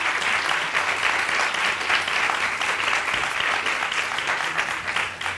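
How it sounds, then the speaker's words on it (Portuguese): A room full of people applauding after a talk at a sustainable development conference session; dense, continuous clapping, loud and even throughout, with no voices on top. "Acho que valeu o aplauso, né?"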